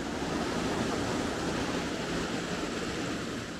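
Steady broadband rush of a river flowing beside a riverside campsite at Chor River, a continuous close wash of moving water with no voices over it.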